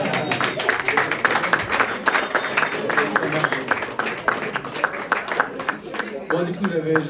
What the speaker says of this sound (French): Bah, on peut applaudir Roman.